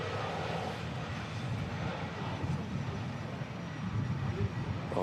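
A Boeing 757 airliner on approach at windy Manchester Airport produces a broad steady jet roar heard from a distance, holding evenly and swelling slightly toward the end.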